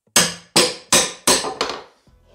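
A hammer bangs down a lifted floorboard to expose the nail heads: five sharp, ringing blows in a steady rhythm, close and loud, the last one lighter.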